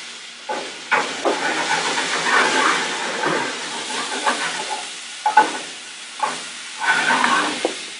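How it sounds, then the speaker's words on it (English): Shrimp frying in a pan, a close sizzle and hiss broken by irregular scraping and clattering bursts as the pan and utensils are worked, loud and uneven with no speech. "once the shrimp is cooked halfway on one side, we're going to add our shallot"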